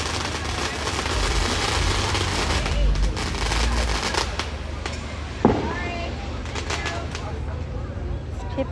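Fireworks go off around a town driveway as a scattered series of pops and bangs, with one sharp louder burst standing out. People talk nearby over the bangs.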